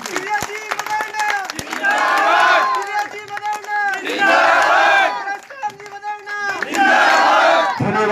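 A large crowd claps and cheers loudly in repeated surges at a political thank-you rally in Bara village, Jodhpur, with voices shouting over the applause between brief lulls.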